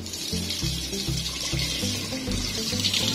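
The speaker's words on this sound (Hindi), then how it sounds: "ये देखें पानी की आपके कपड़ों के ऊपर जरा भी छींट नहीं पड़ेगी इंशाल्लाह" A tap runs water into a sink in a house's bathroom or kitchen fixture, a steady broadband rush with no pause through the short stretch, accompanied by faint low rhythmic thumping underneath.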